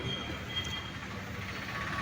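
A train rumbles steadily nearby, with a continuous rolling roar and faint high metallic squeals from the wheels.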